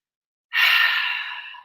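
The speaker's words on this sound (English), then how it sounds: "A nice deep inhale through the nose. Exhale out of the mouth." A single deep clearing breath during a yoga session, a close, breathy exhale that swells quickly after silence and slowly fades away, with no talking.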